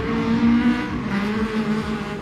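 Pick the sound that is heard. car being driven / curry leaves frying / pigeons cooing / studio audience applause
car being driven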